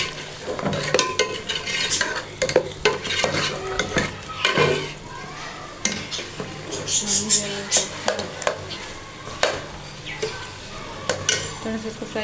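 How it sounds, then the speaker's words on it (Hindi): Chicken with garam masala stirred and fried in a pot, with a spoon scraping and clattering against the metal in repeated strokes over a steady sizzle, close and fairly loud. "और इसको कर लेते हैं मिक्स अच्छी तरह से।"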